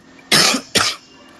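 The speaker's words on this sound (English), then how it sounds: "I have a little cough, so I'll be coughing in between" Two sharp, close coughs from a presenter in an online session come in quick succession, the first slightly longer, with quiet room tone around them.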